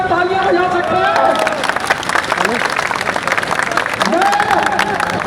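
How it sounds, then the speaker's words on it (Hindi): Crowd of traders clapping at a street protest on M.A. Jinnah Road, uneven scattered applause with a voice speaking over it and crowd noise around. "क्या उनके लिए आप तालियां बजा सकते हैं?"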